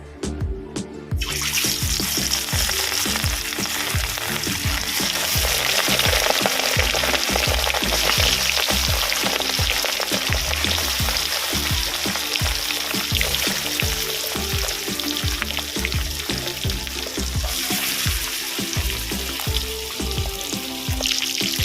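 Pieces of katla fish frying in hot oil in a wok, a dense, loud, continuous sizzle that flares up at the start and keeps crackling steadily with no talk.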